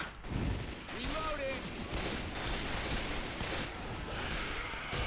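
Gunfire in the video game Left 4 Dead 2, on the Dark Carnival campaign, sounds as a dense, continuous fusillade of shots over a busy background, kept at a moderate level.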